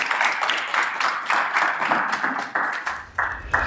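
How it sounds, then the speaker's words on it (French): An audience on a dating game show claps for a departing participant, a short burst of applause in rhythmic waves that fades in and out, fairly close and without talk. "Applaudissez-le s'il vous plaît en tout cas."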